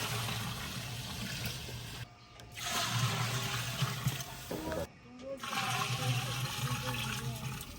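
Water gushes loudly into a large pot holding 12 kg of rice for a chicken vegetable pulao, a steady heavy pour broken by two brief pauses as it refills, with talk mixed in.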